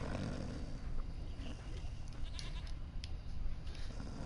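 A goat bleats in The Witcher 3, several short bleats over a low background rumble, fairly faint and close.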